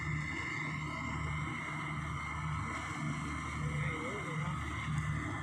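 A tractor tows a rice harvester through a field at night, its engine a continuous low rumble and drone at moderate distance with no clear breaks.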